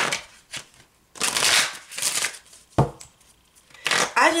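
A deck of tarot cards being shuffled by hand: several crisp riffling bursts of varying length, separated by short quiet gaps, close and fairly loud, with no talking.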